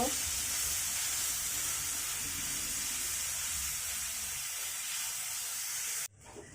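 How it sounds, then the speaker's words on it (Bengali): Masoor dal with yardlong beans fries in a pan, a steady close hissing sizzle that runs evenly and then cuts off abruptly near the end. "এগুলোকেও নেড়ে ভালোভাবে ফেরাই করে নিব"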